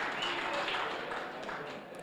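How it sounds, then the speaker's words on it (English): A steady wash of audience clapping fills the hall at a men's and women's T20 cricket draw, dense and even, fading slightly toward the end. "Please give him a round of applause"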